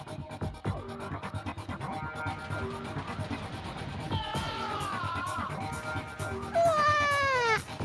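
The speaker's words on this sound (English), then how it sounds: "There's a cat." A cat meows in a retro video game, with high gliding electronic cries rising over game music and effects near the end.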